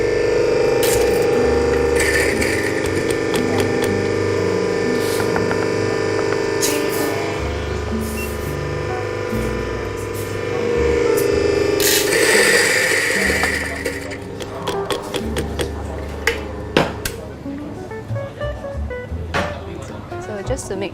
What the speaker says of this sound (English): right now I'm going to grind the coffee beans first